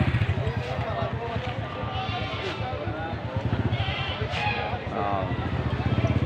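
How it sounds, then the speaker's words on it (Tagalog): Goats on a goat farm bleat in a noisy, crowded pen, scattered cries rising over dense background clatter and movement, with no clear talk. "Nakakita na ho nito mga kambing ito."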